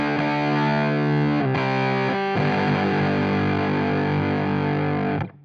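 A fuzz pedal pushes an electric guitar into thick, saturated distortion, sustained chords ringing loud and dense with a brief break and restrike midway before cutting off.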